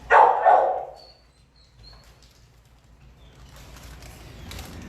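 A large dog barks twice loudly at a dog shelter, the short bursts close together at the start, followed by quieter kennel noise with faint chirps and clatter; no talking.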